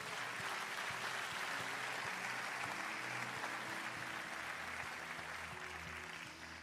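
Church congregation applauding, a dense steady wash of clapping that fills the whole stretch, loud and continuous before fading slightly at the end, with no talk over it.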